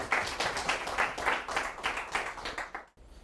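Middle school students in a traveling science class clap together, a dense burst of applause that stays steady and close for about three seconds before ending abruptly.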